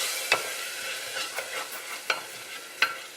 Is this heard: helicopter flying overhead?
no